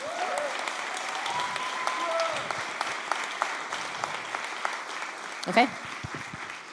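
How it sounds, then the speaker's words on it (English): An audience applauds at an award ceremony in Berlin, a dense, steady clapping that carries on throughout, with a voice briefly speaking over it. "Keep clapping, keep clapping."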